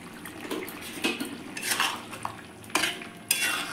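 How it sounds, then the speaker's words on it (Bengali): Garam masala being stirred into aloo dum in a pan: a spoon scrapes and clinks against the metal in uneven bursts, with a few sharper knocks, close and moderately quiet, with no talking. "আলুর দমের মধ্যে মিক্স করে দিচ্ছি"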